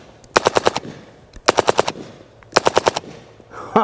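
Suppressed 300 Blackout subsonic rifle fire through a Rugged Razor 7.62 silencer outdoors: three rapid strings of five or six muffled, punchy shots, each string lasting under a second, loud and close with short pauses between.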